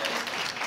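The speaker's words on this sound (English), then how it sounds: "You can clap. Go ahead." A packed studio audience at a hospital webcast claps briefly on cue, a short burst of many hands close and full.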